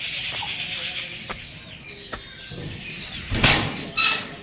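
Native chickens in a coop cluck and call in short scattered bursts at close range, with a couple of louder rustling or flapping bursts near the end.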